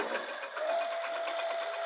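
A sewing machine stitches a fabric bag in a fast, even run of needle strokes, close and steady for a couple of seconds with no talking.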